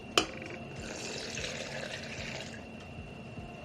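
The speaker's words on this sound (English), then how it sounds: "let me put the water in this" Water is poured into a container to make cold brew, a steady splashing fill that starts with a sharp clunk and runs for a couple of seconds before easing off, close and moderately quiet.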